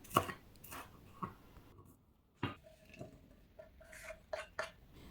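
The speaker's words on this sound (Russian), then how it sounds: "Свежий зеленый лук режу просто длиной 3-4 сантиметра." A knife chops fresh green onion into 3-4 cm lengths on a cutting board in irregular, sharp taps, some single and some in quick clusters, close and fairly quiet.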